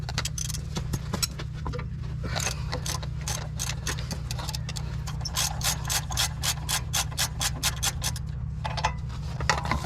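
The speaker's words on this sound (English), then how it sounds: "we're going to take the caliper off with a 17mm" A ratchet with a 17mm socket loosening the brake caliper bolts on a third-generation Toyota Tacoma clicks in fast, steady runs close by. A low mechanical hum carries on under it throughout.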